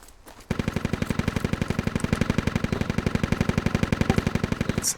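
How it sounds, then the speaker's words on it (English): A long, rapid burst of enemy machine gun fire in the military shooter Squad, evenly spaced shots rattling off at a fast steady rhythm for about four seconds, loud and fairly close, with no talking over it. "It's enemy MG. Yeah, that's enemy MG."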